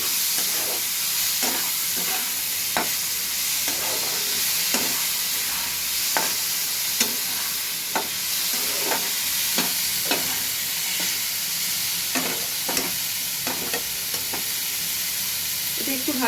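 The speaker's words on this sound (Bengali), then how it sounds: "এটা একটু ভাজাটা হোক" Matar paneer with green chillies sizzles steadily in a pan, with a spoon scraping and tapping through the food at a fairly regular pace over a constant frying hiss, close by and without voices.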